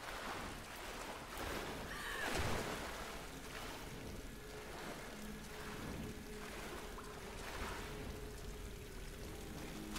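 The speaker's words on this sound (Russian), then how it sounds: "Прилив." Tide waves washing in along a shore in the Tomb Raider game, a steady wash of surf and water with gusty wind noise, swelling slightly early on and otherwise continuous and moderately faint.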